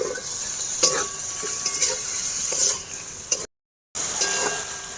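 Chicken for egg chicken pasta sizzling in a pan with no water while being stirred, a steady close frying hiss broken by several scraping spoon strokes, then a brief cut to silence before the sizzle resumes.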